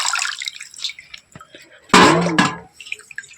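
Palmyra tubers rinsed by hand in water, with a burst of splashing and sloshing in the middle and light drips around it, close by.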